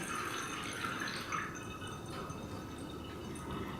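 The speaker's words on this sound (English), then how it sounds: "So then we're just going to pour this in, and see, it goes much quicker this time." Coffee mixture poured from a jar through a coffee filter back into a jar, a steady soft trickle and drip of liquid running continuously at close range with no talking.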